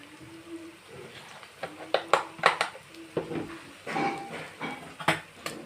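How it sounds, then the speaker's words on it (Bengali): A metal spoon clanks and scrapes against a pan while egg masala is stirred with turmeric and cumin powder. The sharp, irregular knocks stand over a soft background sizzle. "দিয়ে আমি ভালো করে নেড়ে নিচ্ছি"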